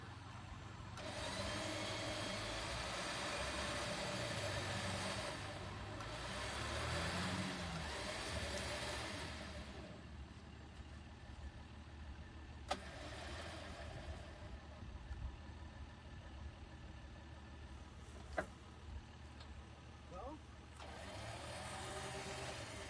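An off-road vehicle engine idles and revs while driving on a muddy trail during a winch recovery, a steady low rumble throughout with a couple of sharp knocks and faint voices in the background.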